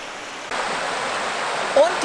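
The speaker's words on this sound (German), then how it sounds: "das ist die Argen, die hat viele Wasserfälle hier gebildet." The Argen river tumbles over waterfalls in the Eistobel gorge in the Allgäu, producing a loud, close, continuous rushing roar with no break.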